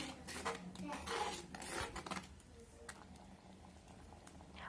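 Thick lentil and fenugreek-leaf curry bubbles and simmers at a boil in a pot, soft popping and sputtering, with a few clinks of utensils early on.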